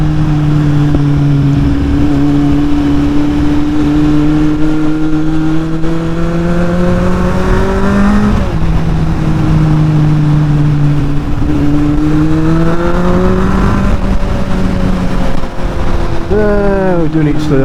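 A motorcycle engine drones loudly and close during a ride around south-east France, its pitch rising and falling as the rider shifts and revs, with wind rumble throughout.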